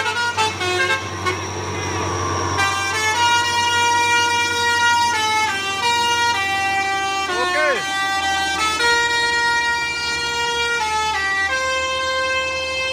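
Indonesian telolet air horn on a Hino 500 bus, playing several sustained multi-tone melodic blasts, then sagging and warbling in pitch as the air supply runs out, loud and close amid street noise and voices.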